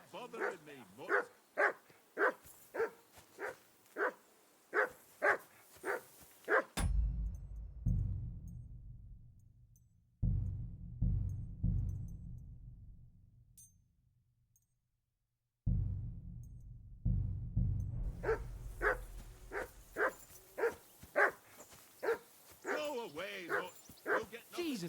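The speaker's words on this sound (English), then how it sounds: "that barking's driving me nuts" A dog in the medieval video game Kingdom Come Deliverance 2 barks in a rapid, evenly spaced series of sharp yaps, then goes quiet under low background rumble before barking again just as insistently toward the end.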